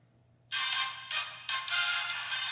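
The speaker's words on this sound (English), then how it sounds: "Call my cell phone." Cell phone ringtone in the Ace Attorney video game, a bright electronic ringing that starts abruptly and repeats in steady pulses, loud and alone over a low hum.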